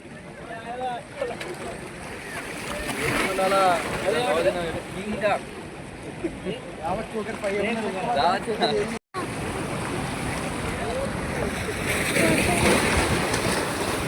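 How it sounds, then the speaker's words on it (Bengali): Trawler boats pass by at sea off Digha while water washes and slaps against them in a continuous rushing surge beneath people talking nearby. "ট্রলারগুলো আসছে, ওই জন্য জলে ধাক্কা খাচ্ছে"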